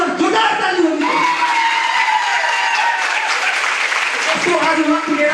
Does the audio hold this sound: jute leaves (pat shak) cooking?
no